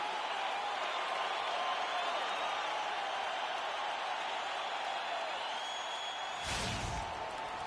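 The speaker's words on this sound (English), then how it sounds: "It's game time in Cleveland as the crowd is filling up the Quicken Loans Arena." Steady arena crowd murmur in an NBA 2K video game as fans fill Quicken Loans Arena in Cleveland before tip-off, a constant wash of broad noise with a brief louder burst near the end.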